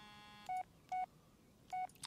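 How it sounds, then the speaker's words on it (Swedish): Phone keypad tones from a call in the Blair Witch video game: three short, clear electronic beeps spaced unevenly over a faint hiss, with no talking. "Nu ringer Jess"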